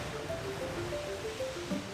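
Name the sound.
sea waves at Mumbai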